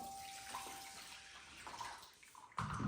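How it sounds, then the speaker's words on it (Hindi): Hot water poured into a bowl of soaking lentils for kachori, a quiet splashing trickle that swells into a louder, fuller pour at the end. "इसमें मैं गर्म पानी डाल देता हूँ।"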